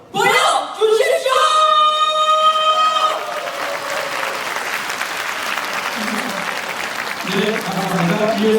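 Audience applause at a world Korean speech contest for foreign speakers, a loud sustained burst of clapping from a crowd that starts abruptly, with a voice briefly heard over it at the start.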